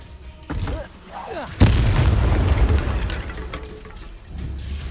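Confringo and Expulso spell blasts from Hogwarts Legacy: a heavy booming impact rolls into a sustained low rumble, with a smaller burst near the end, in the middle of combat.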